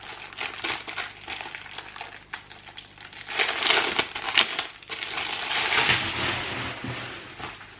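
A plastic-wrapped laundry bag being torn open, with loud crinkling and crackling of plastic in bursts that swell toward the end, close by and with no talk.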